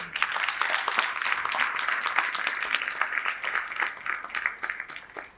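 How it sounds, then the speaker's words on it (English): An audience at an award ceremony during a keynote event gives the awardees a long collective round of applause, a thick, even wash of many hands clapping for about five seconds, with no voices over it. "Let us show our appreciation with a huge collective applause for you"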